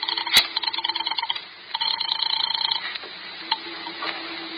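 Telephone dialed for a call in an old radio drama, with rapid rhythmic clicking and whirring bursts in short runs, a sharp click at the start, close and alone with no talk.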